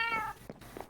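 Cats meow in the Minecraft video game, one clear drawn-out meow followed by two shorter, fainter mews.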